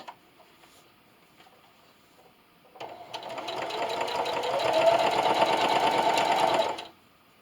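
A sewing machine stitches the final stretch of a seam on a hanging towel, starting after a few seconds of quiet handling and running as a steady, fast, close mechanical whir that builds slightly, then stops abruptly.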